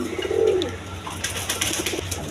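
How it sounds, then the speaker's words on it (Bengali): Chinese owl pigeons coo close by, a single low throaty coo standing out near the start, followed by quieter rustling against a steady background hum. "দেখেন চাইনিজ আউল কবুতর।"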